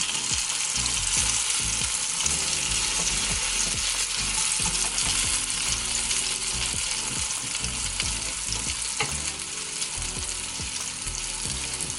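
Tuna pancakes (chamchijeon) frying to a golden brown in a pan give a loud, steady, close sizzle that runs unbroken, with small pops and spatula scrapes scattered through it.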